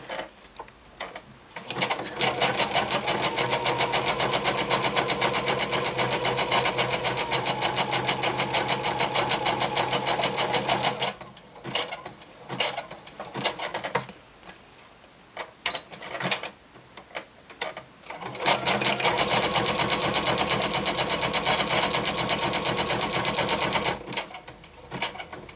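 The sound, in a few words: sewing machine stitching fast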